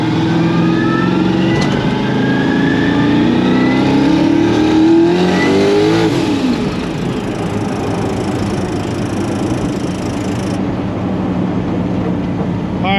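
A 1000-horsepower street car engine revs and accelerates hard on the road, loud rising engine tones climbing through the gears, then dropping and settling into a rough, heavy drone, with no talking.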